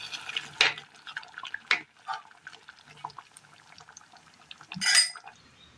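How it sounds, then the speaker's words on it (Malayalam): Kerala-style curry is poured into a vessel, heard as soft intermittent splashes and liquid glugs, ending in a louder, brief pouring gush near the end, with no speech. "ഒരു പാത്രത്തിലേക്ക് ഒഴിച്ചു കൊടുക്കാം."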